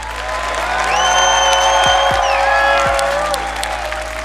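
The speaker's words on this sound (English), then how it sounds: "Can we get one more clap for Noodle," Crowd applause and cheering at the BLAST R6 Major esports finals in Atlanta, a steady roar of clapping held at a constant level for several seconds, with faint voices and a high whistle above it.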